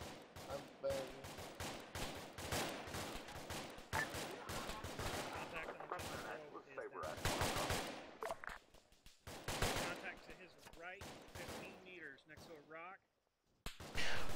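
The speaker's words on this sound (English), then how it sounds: "We're taking shots from west, southwest." Rapid rifle and machine-gun fire crackles through an Arma 3 realism-unit battle, dense overlapping bursts at mid distance with sharp cracks, interspersed with radio-style voices, ending in a brief lull and a final burst.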